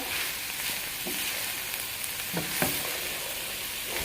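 A keto egg roll in a bowl mixture sizzles steadily in a hot pan while it is stirred, with a constant frying hiss and a few soft scraping strokes of the spoon, close and fairly loud, with no talking.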